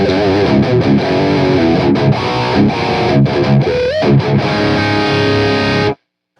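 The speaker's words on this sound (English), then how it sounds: "this amp feels like an entirely different amp in the modern mode" A distorted electric guitar plays through an amp in modern mode, completely dry with no reverb, loud and aggressive with a sharp top end. Chords ring for about six seconds, then cut off abruptly to silence.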